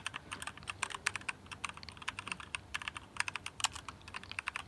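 Rapid typing on a computer keyboard into a Chrome address bar, a close run of light, quick key clicks in irregular bursts, with no talking.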